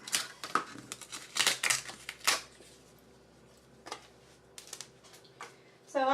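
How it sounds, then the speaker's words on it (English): Scissors snipping paper pieces for a handmade mini album, with several quick close cuts in short bursts separated by quiet pauses, and a louder crinkle at the end. "So I'm going to cut these out"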